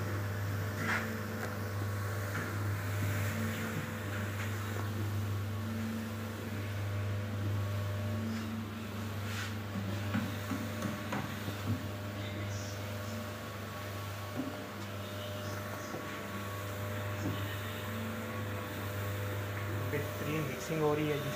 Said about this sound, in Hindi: मिक्सर को ऑन कर देंगे